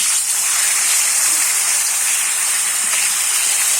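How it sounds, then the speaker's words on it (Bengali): Fish pieces coated in salt and turmeric fry in hot oil, giving a loud, continuous close hiss with no voices. "এবারে নুন হলুদ মাখানো মাছটা আমি দিয়ে দেবো"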